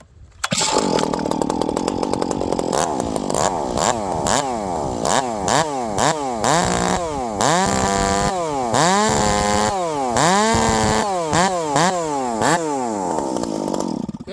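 A ported Stihl MS460 chainsaw with an open exhaust pipe revs hard over and over, each loud rise from idle to a screaming top speed falling back quickly, with the pulls repeating close and alone.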